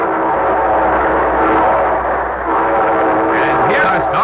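A train rumbles past with a steady mechanical roar, and a horn-like tone rises near the end.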